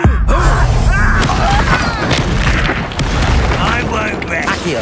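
An Incendio fire spell is cast in Hogwarts Legacy, letting out a loud, whooshing fiery boom with crackling bursts through combat noise, while voices talk over it.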